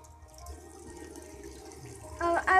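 Water poured into a container while making homemade slime: a soft steady trickle that swells into a louder splashing pour at the end, nearby and with nobody talking.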